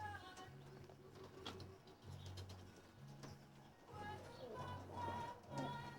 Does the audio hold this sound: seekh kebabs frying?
no